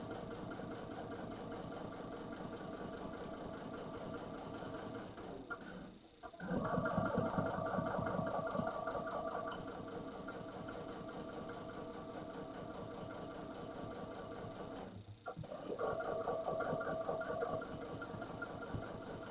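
A sewing machine stitches a quilt in a steady mechanical whir. It runs continuously, with two brief pauses and restarts, close and moderately loud.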